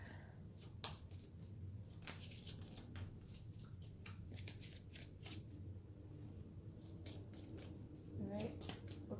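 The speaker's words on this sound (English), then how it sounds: "It's weird to be shuffling just a few cards." A small deck of about 22 tarot cards being shuffled, a soft riffling patter of quick card slaps and flicks, faint and close, with a voice talking quietly in the background.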